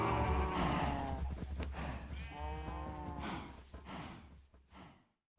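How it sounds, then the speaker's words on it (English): Minecraft cows moo in long, drawn-out low calls, several overlapping in a steady sequence up close before fading to quiet at the end. "Look at all these cows."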